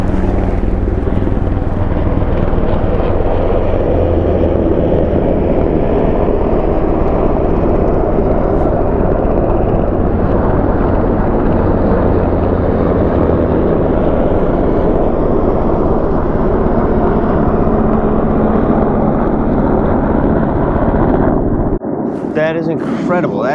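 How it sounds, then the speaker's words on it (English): A steady, heavy roar of helicopters flying overhead, loud and continuous for over twenty seconds before cutting off abruptly. "What are these, Apache helicopters?"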